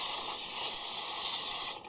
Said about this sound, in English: this is going to take my brake clean and just spray the ever-loving bejesus